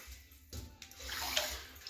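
Water in a tub or basin being stirred by hand to make waves, a close sloshing and splashing that starts abruptly and builds into steady swishing, with no talk.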